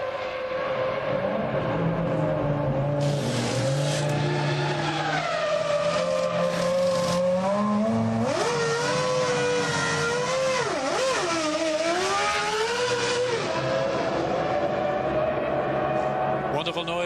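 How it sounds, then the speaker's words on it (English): A Ferrari V10 Formula 1 car screams at racing speed at the 2000 Austrian Grand Prix, its loud, continuous engine note rising and falling through gear changes as commentators talk over it. "There's something about those massive sort of multi-V engines, absolutely wonderful sound, isn't it?"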